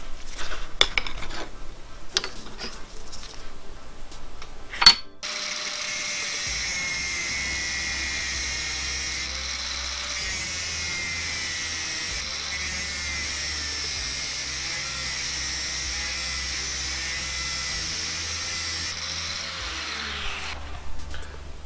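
Cutting tool slicing the magnetic end off a metal intercooler pipe, a sharp bang then a steady high grinding whine held for about fifteen seconds with slight pitch wavers, loud and close, no talking.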